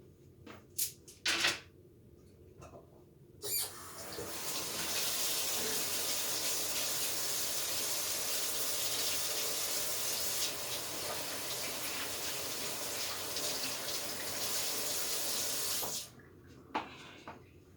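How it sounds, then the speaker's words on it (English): Hands are washed under a running tap for about twelve seconds of steady, close water rush. A few clicks and knocks come before and after the flow. "No, first I will wash my hands"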